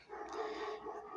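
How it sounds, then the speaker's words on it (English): A giant schnauzer, a large 90-pound dog, barks in a muffled, somewhat distant way, a continuous agitated run of woofs heard faintly through a room with no one talking. "Let me pause for a second till the dog quits barking."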